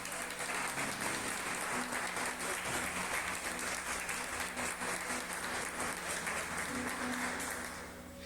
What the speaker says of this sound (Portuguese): Você pode aplaudir o nosso Senhor Jesus.